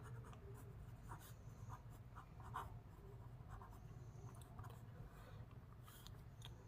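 Pen scratching across paper in a steady run of short strokes while a math expression is written out, close and quiet, with no voice over it.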